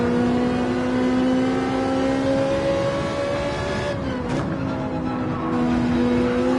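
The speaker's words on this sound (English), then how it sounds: "Yeah, you can hear them revs." A Ferrari in Gran Turismo 7, played in VR on a PS5 with traction control off, holds a loud, steady engine drone that dips and rises briefly mid-way as the revs shift, with no talk.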